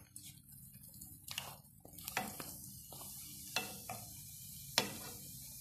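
Sfenj beignets fry in hot oil with a quiet, steady sizzle, broken by occasional sharp clinks and scrapes of a utensil against the pan.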